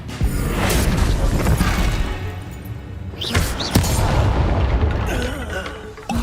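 Bombarda spell blasts in Hogwarts Legacy sound as heavy booming explosions and crashes over a dense, continuous game mix of rumbling effects and music, with a couple of sharper impacts midway.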